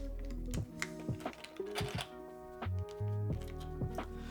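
Typing on a mechanical keyboard, a Mode Loop build fitted with Shelby keycaps: close, deep thocky keystrokes in an uneven rhythm, each press distinct over a low steady background hum.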